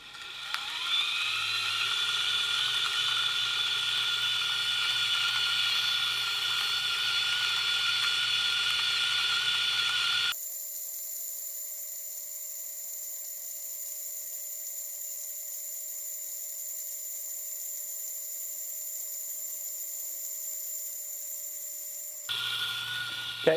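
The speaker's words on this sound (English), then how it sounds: "it takes to grind for espresso with these conical burrs spinning at a really low RPM" Option-O Lagom Casa conical burr grinder grinding 18 grams of coffee for espresso at low RPM: a steady, close whirring hum that shifts pitch partway through and holds, with no voices.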